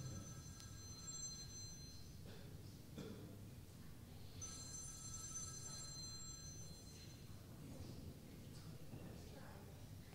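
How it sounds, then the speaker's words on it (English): A telephone rings faintly in the background of a live Messianic congregation service, giving two bursts of bright electronic trilling over a low murmur of room noise. "I hear somebody's ringing."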